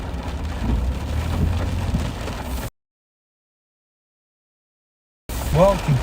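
Rain falls steadily during a sheriff's patrol, with a broadband wash of drops over a low rumble, then a short silence before a voice talks briefly over the rain.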